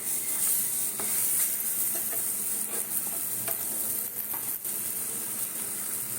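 Moong puri fry in butter and oil in a pan, giving a continuous soft sizzle and hiss with occasional light stirring and scraping; no one talks.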